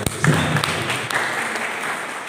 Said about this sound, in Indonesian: Tepuk tangan sekali lagi buat Tuhan.